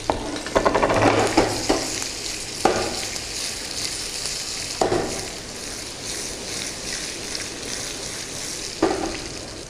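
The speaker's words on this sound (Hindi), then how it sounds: "आलू को हमने 2 से 3 मिनट अच्छे से पका लेना है तेल में" Boiled potatoes cut into large chunks fry in oil with cumin seeds and are stirred, giving a loud steady sizzle broken by several sharp scraping bursts from the spoon.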